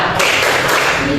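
A classroom of students beating out a rhythmic spirit clap in a school lesson, loud sharp taps in quick succession filling the moment, with chanting voices mixed in.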